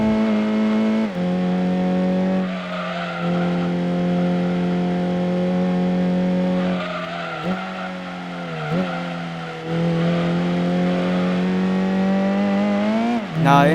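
A car of around 301 horsepower drives in Gran Turismo, its engine holding a loud, steady drone close up, with brief dips and shifts as it changes pitch and a rising rev at the end.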